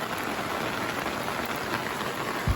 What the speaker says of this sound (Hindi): बारिश जनाब इधर कंटिन्यू है